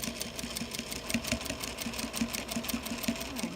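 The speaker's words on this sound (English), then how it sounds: "now we're going to go back and do a regular stitch" A sewing machine running a regular stitch along a blouse sleeve, its needle tapping in a quick, even rhythm at close range with a steady mechanical hum and no talking.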